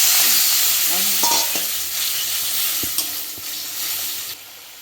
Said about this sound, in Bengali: বেটে রাখা মশলার জলটা দিয়েছি এবার ভালো করে মশলাটাকে কষিয়ে নেব